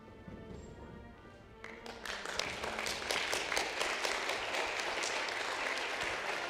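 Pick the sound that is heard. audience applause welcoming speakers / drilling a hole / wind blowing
audience applause welcoming speakers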